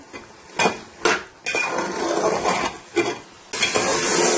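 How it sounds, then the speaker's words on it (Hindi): Minced keema and green beans frying over high heat in a pan, loud crackling sizzle broken by several sharp spoon scrapes and clinks against the pan, close up with no talking. "अब हम इसको 5 से 10 मिनट तक इस तरह भूनेंगे अच्छी तरह।"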